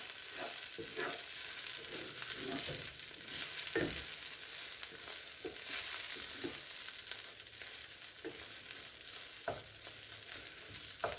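Pre-cooked bacon pieces stirred into a sizzling pan for a hot tomato pie, a soft, steady frying hiss broken by scattered spoon scrapes and taps against the pan, with no talking.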